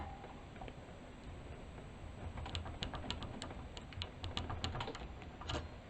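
Small, quick ticking scrapes of a hand file working a single cut on a key blank, a light irregular patter over a quiet background hum.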